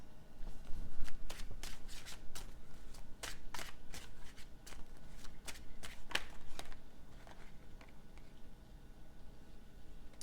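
A deck of playing cards is shuffled by hand in a quiet room, giving a close series of crisp riffling bursts in uneven clusters with short pauses between them.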